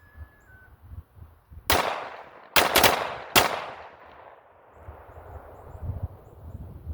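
A Glock fitted with an FRT trigger fires from a P-mag, giving one loud close shot and then a tight burst of rapid shots, with echoes decaying over a quiet outdoor background and no talking.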